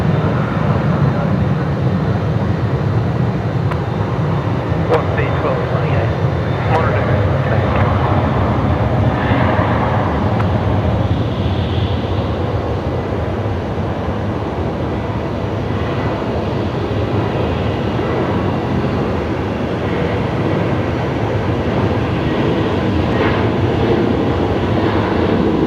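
Velocity flight 73 to Canberra takes off from runway 19 left at Brisbane Airport, a loud, steady jet roar that fills the whole stretch without a break.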